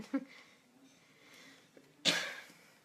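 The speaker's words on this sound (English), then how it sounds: "Mind my cough, guys." A few quiet coughs and throaty sounds, ending in one sharper, louder cough near the end, close by in a quiet room.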